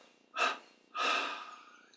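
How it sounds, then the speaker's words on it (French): Breath pushed out in separate bursts during a yoga breathing exercise: a short, forceful puff, then a longer, hissing exhale that slowly fades. Both are close and clear, with no talking. "On expire en trois fois."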